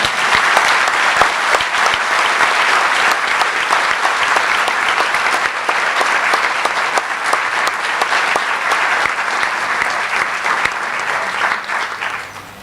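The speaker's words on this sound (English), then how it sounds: "Please join me in welcoming Dr. Hoblet with a thunderous round of applause." At a veterinary medicine white coat ceremony, a large audience gives loud, sustained applause for more than ten seconds. It holds dense and even, then fades at the end.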